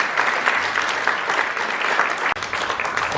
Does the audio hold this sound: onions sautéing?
no